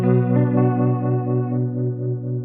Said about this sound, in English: which this is the Vibe rotary